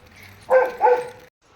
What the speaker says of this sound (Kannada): ನಾಯಿ ಉಂಟು, ಅದನ್ನು ಕಟ್ಟಿ ಹಾಕಿದ್ದಾರೆ.